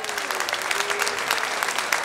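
Steady, dense applause from a live-music audience for a guitarist at Music City Roots, continuous and fairly loud throughout with no talking.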